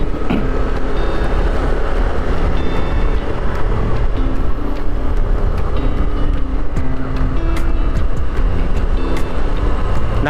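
Motorcycle riding at night along Ratchadamnoen Avenue in Bangkok, a steady loud roar of engine and wind noise mixed with surrounding city traffic, continuous and close throughout.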